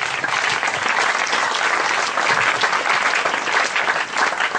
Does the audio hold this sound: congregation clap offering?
yes